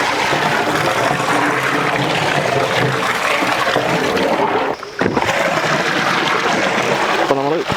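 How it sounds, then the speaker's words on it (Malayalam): Potfuls of water gush into a large pot for cooking rice, a loud, continuous pouring rush with a brief pause between pours. "അപ്പോൾ നമ്മൾ 11 കുടം വെള്ളം ഒഴിച്ചിട്ടുണ്ട്."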